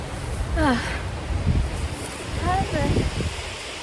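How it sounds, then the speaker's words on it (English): Strong wind blows outdoors on a very windy day, a constant loud rumble buffeting the microphone, with a person speaking over it in bursts. "I don't think you can hear me because of the wind."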